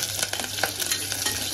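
Mustard seeds, cumin, garlic, curry leaves and dried red chilies spitting in hot oil as a tempering for mango sambar: a steady close sizzle with scattered small crackles and pops, with no voices.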